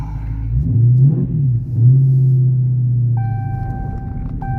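A Dodge Challenger widebody Scat Pack V8 rumbles low and steady while driving on the road, close and loud inside the cabin, with a chime tone sounding near the end.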